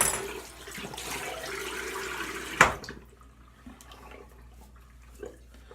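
Running tap water rinses a straight razor during a shave, a steady splashing stream for about two and a half seconds, then a sharp clunk as it shuts off, leaving a quiet room with faint small movements.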